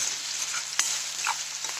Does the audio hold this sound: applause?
no